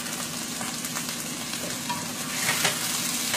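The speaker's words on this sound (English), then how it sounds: "so you want to cook off those broccoli too" Broccoli fries in a hot pan for chicken lo mein, giving a continuous close sizzle with light stirring scrapes and a louder surge near the end, without voices.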